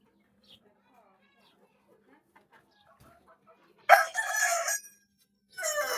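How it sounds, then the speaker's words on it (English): Chickens on a family's premises in Egypt near the Valley of the Kings, with a loud nearby rooster crow bursting out after a quiet stretch of faint clucking, followed by a second crow starting at the end. "Hey chickens."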